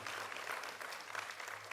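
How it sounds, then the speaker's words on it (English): An audience at a scholarship and awards gala applauds in a dense, continuous patter of many hands. It sounds faint and distant, with no voices. "A big applause to everybody here in this room."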